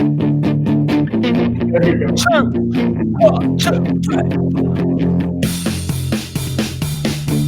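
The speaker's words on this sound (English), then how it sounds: "I'll give you a death metal one." A death metal style music demo drives along with dense distorted guitar and pounding rhythm, loud and continuous, with a voice counting in over the start.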